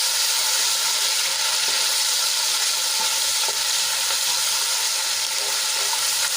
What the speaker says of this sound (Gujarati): આદુ લસણ અને મરચાંની પેસ્ટને આપણે સાંતળી લઈશું